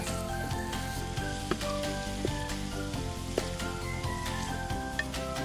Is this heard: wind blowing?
no